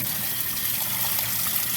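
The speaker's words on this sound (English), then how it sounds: "We can now see that the water is flowing into the cooker" Water gushes steadily through an opened valve into a pressure cooker tank, a constant close, full-bodied rush with no pauses.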